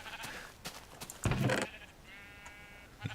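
Several Minecraft sheep bleat in short overlapping bursts, then a clear sustained bleat rises near the end, loud and close amid game noises, no voices.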